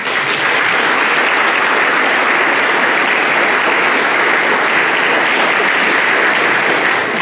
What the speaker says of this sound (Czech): Klidně můžete zatleskat.